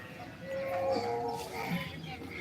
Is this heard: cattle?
yes